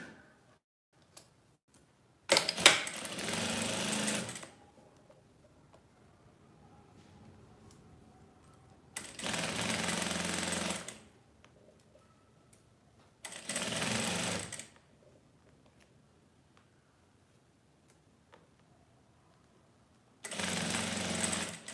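A sewing machine stitches a seam along a 3D fabric face mask trimmed with eyelet lace, running in four separate bursts of a few seconds each, close and clear, with quiet handling pauses between them.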